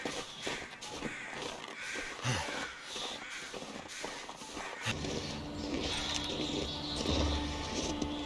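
Crows caw repeatedly over a busy, layered soundscape in the game The Long Dark with footstep-like shuffling; partway through the backdrop shifts to steadier tonal hums.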